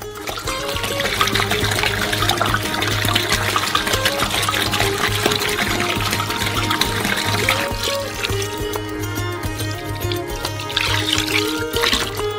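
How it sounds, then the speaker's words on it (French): Water poured steadily from a container into a mixing bowl of chocolate mixture while making a giant homemade Ferrero Rocher, a continuous close trickling splash that lasts throughout with no voices. "Lorsque tout est bien mélangé, versez le reste de l'eau."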